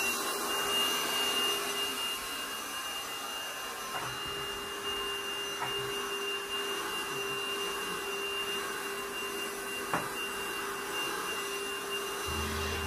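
A household vacuum cleaner runs steadily throughout, a constant droning whir at moderate volume with a faint high whine, no voices over it.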